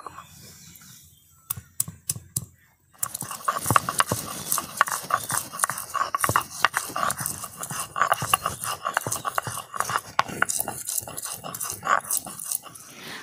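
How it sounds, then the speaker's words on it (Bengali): Ginger being ground on a sil-nora stone slab with a hand grinding stone: a few sparse knocks, then steady rhythmic scraping and clacking strokes, close and fairly loud, with no talk. "ততক্ষণে আমি শিলনোড়ায় পোস্ত আর আদা বেটে নেব। প্রথমে আদা বেটে নেব।"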